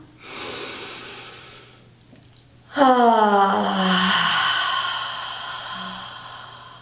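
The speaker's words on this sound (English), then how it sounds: "Take a deep inhale." A slow, deep breath during a lying-down yoga relaxation, with a soft drawn-in inhale followed by a louder, longer exhale, close and alone.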